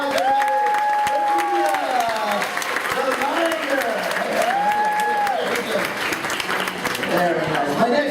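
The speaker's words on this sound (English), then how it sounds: "Give her a great big round of applause." Sustained audience applause fills the whole stretch at a live stage show featuring big cats, loud and steady clapping with scattered cheers and a voice talking over it.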